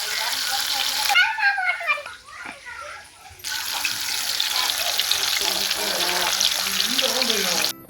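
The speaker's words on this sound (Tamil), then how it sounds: "அடுப்பை ஃபாஸ்ட்டாக வச்சு மீன் வறுக்கணுமா இல்லை சிம்மில் வச்சு மீன் வறுக்கணுமா" Fish sizzles in a hot frying pan with a loud, hissing crackle that pauses briefly and then resumes, while people talk nearby.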